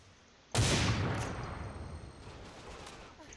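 Gunfire in the shooter game Line of Sight, one sudden loud burst of shots with a booming onset that decays over a couple of seconds into a lingering rumble, with no talk.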